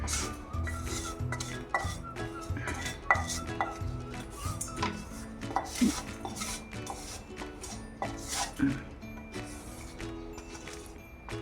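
Roasted vermicelli is scooped from a pan onto a plate, with repeated metallic scrapes, clinks and knocks of a spoon against cookware in an uneven rhythm, close and moderately loud.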